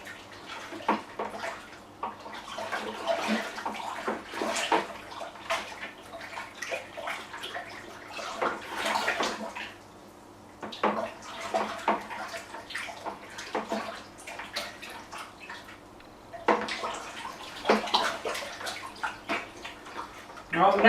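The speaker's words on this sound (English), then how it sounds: "This is very hot water and sticky water, so be very careful." Very hot water being poured and stirred into sugar for homemade wine, bursts of splashing and swirling liquid in a vessel broken by short pauses, with a person talking at times.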